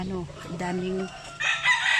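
Chickens on a small farm in the province, a rooster crowing with a long drawn-out call, followed by higher, brighter clucking and squawking from other fowl close by.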